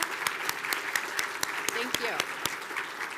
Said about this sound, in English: Please join me in giving our jurors a round of applause.